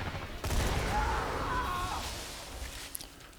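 Burst-fire pitchfork weapon shooting in Borderlands 2, a dense rattling volley that starts abruptly, holds loud for about two seconds and then fades into softer scattered pops.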